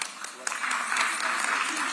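Applause for an honourable delegate at an African Union gathering in Ethiopia, a steady wash of clapping from a crowd that fills the room from start to finish.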